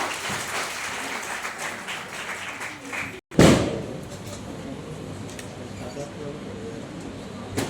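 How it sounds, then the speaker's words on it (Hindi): Audience at a foundation day celebration of an ashram and Shiva Shakti temple in Kurukshetra clapping for the guests, a dense sustained patter of many hands that breaks off briefly, then resumes with a thud. "पर जोरदार ताली हो जाएगी हमारे सभी अतिथियों के लिए।"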